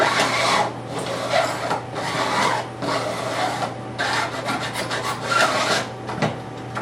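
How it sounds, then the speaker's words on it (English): A 6-inch smooth-cut milling file dresses guitar frets on a fingerboard in repeated rasping strokes, about a dozen rhythmic scrapes with brief pauses between, close and fairly loud. "I use a 6-inch milling file, smooth cut."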